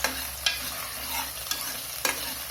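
Small shallots and large onions sauté in a pan for chicken kuzhambu, a soft steady sizzle broken by four sharp spatula scrapes at regular intervals, fairly quiet and close.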